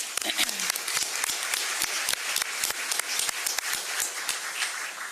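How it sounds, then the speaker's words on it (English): A crowd applauds steadily, a dense patter of many hands clapping together without a break. "a round of applause to welcome our guests, please."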